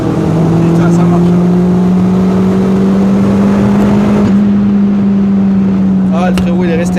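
Small-engine car accelerating with a loud, steady droning engine note that climbs gradually, heard from inside the vehicle while people talk over it.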